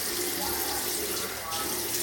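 Shaving brush rinsed under a running tap, a steady close hiss of flowing water into a sink with a brief louder splash near the end.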